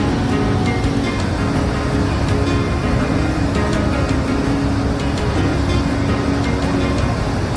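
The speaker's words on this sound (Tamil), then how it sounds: "நியூசிலாண்டில் இருக்கிற ஹியூகா என்ற ஒரு அருவியை தான் பார்க்க வந்திருக்கிறேன்" Steady, dense rush of water at Huka Falls in New Zealand, a broad continuous roar that holds at an even, loud level throughout with no speech over it.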